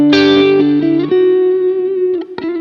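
Electric guitar through a Line 6 Helix amp model, a single distorted chord struck loud and ringing out with sustained overtones, followed by faint string noise and a light pluck near the end.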